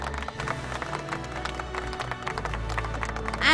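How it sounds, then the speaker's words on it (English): Audience applause at a cold chain technology awards ceremony as a presenter is called on stage, steady moderate clapping from a seated crowd under background music, swelling slightly at the close. "Can we have a round of applause, please?"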